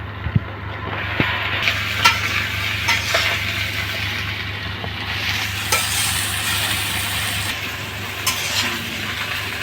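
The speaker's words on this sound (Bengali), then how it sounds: "কচু শাক রান্না করা হচ্ছে" Taro leaves stirred and frying in a pan in a home kitchen, a steady sizzle with repeated scraping and clinking of the utensil against the pan, close and continuous throughout.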